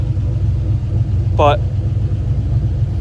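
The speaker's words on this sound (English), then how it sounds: "it's been sitting here for 5 minutes idling" A car with an LS engine idles steadily in a low, even rumble, heard close up while someone speaks a single brief word over it.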